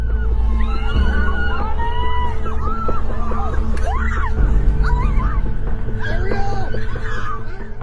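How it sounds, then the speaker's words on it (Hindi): Human screams ring out amid a noisy crowd, with excited cries and babble layered over a constant loud background rumble throughout. "इस वीडियो फुटेज में इंसानों की चीखें भी सुनाई दे रही थी"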